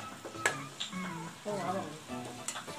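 Curry leaves hit hot oil in a pan and sizzle and crackle, with scattered pops and stirring, while a voice talks over the cooking.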